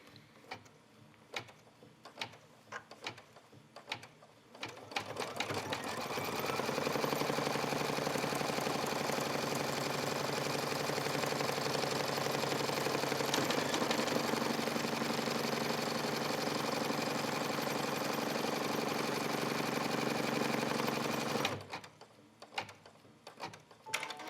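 An embroidery machine runs steadily for about fifteen seconds, stitching a leather bag with a dense, fast mechanical rattle and hum, framed by quieter ticks and clicks before and after.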